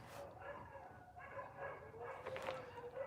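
Several dogs at home bark, yip and whimper excitedly in an overlapping, continuous chorus, fairly faint and somewhat distant.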